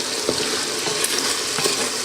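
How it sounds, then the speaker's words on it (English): A pot of sauce with onions sizzles and bubbles at a hard boil, a dense steady crackle heard up close with occasional soft pops. "You can hear it start to sizzle again instead of just bubbling."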